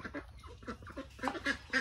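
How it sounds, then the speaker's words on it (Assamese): Ducks on a farm quack and honk repeatedly as they approach, a series of short nasal calls close by with no talking. "এইখিনি হাঁহখিনি লাহে লাহে আহি আছে"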